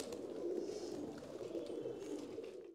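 Pigeons kept in a home loft coo in a low, steady, faint murmur throughout, close but quiet.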